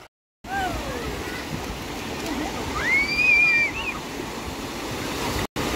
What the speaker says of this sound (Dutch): Ik neem Max even mee de zee in